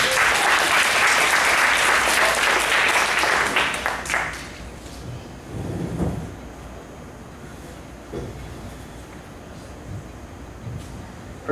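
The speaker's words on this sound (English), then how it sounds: "Round of applause, everybody." Audience at a live post-prom hypnosis show breaks into loud, dense applause for about four seconds, then it dies away to a quiet room with a few scattered sounds.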